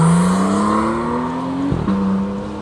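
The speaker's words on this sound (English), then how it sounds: "that car sounds absolutely ridiculous" Porsche Turbo S engine revving loudly, pitch climbing steadily before a sudden drop and quick re-rise as it shifts, a close, powerful mechanical howl fading slightly at the end.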